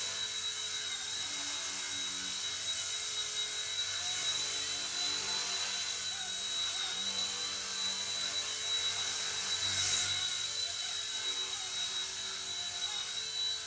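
A Goolrc C129 mini 6-axis RC helicopter hovers indoors, its small motor and rotors giving a steady, thin high-pitched whine that holds at a constant level throughout with no talking.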